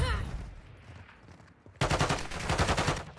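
Rapid automatic gunfire in a ranked multiplayer shooter game rattles out in a dense burst after a quieter stretch of softer game sounds, loud and close.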